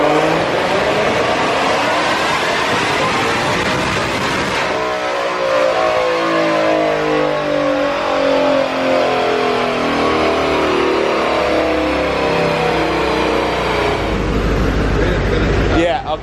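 A 1000hp 2020 Shelby GT500 accelerates hard on the road, its engine revving up through a long rising pull, loud and close, with wind and road roar building and a deep rumble as it backs off.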